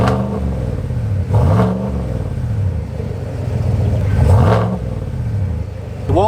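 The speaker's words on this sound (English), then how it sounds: "Or what it's like when you rev it." Chevrolet Silverado ZR2 with the 6.2 V8 and a cheap aftermarket exhaust, revved twice in close succession, each blip rising to a throaty roar and settling back to a rumbling idle, loud and near.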